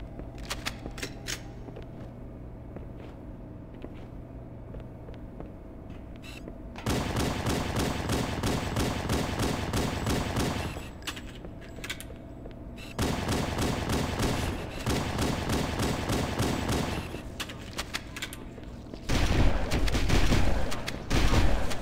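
Halo CE gunfire erupts in dense, loud bursts of rapid repeated shots, broken by short quieter gaps, with the volume climbing toward the end.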